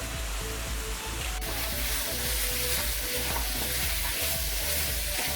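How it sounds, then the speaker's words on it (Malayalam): Masala chicken sizzling in a pan as it is stirred with garam masala, turmeric and roasted fennel powder, a steady close frying hiss with soft scraping throughout, no voices. "നന്നായിട്ട് മസാലപ്പൊടികൾ എല്ലായിടത്തും വരത്തക്ക രീതിയിലൊന്ന് ഇളക്കി കൊടുക്കണം"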